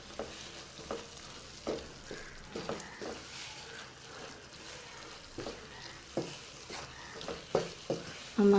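Kootu curry with coriander powder is stirred in a pan, giving a soft sizzle under repeated scraping and knocking strokes of a spoon at an uneven rhythm, close by, with a louder clatter at the end.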